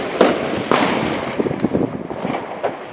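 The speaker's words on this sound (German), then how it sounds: "Da ist ein Böller drin, wenn ihr das seht." Firecrackers bursting on New Year's Eve, several sharp loud bangs spaced across a few seconds followed by smaller crackling pops and rustle, with no talk.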